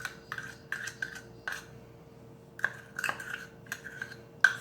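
Rubbing, rasping scrapes of a utensil against a measuring cup while scooping out Karo syrup for caramels, a few short bursts then a pause and more scraping, close and clear with no talk.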